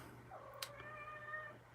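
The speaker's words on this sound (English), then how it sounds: "My cat decided to stop in early today." A pet cat gives a single short meow close by, a rising then falling tonal cry over a quiet low hum, with no one talking.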